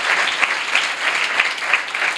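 An audience claps steadily at a church sermon, a continuous, fairly loud wash of applause that keeps going throughout with no break.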